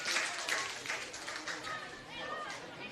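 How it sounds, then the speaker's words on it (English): Spectators clap at a women's NPL Victoria football match between Box Hill United and Preston Lions, a scattered burst of applause from the crowd under a commentator's voice. "Really loud claps here from the audience."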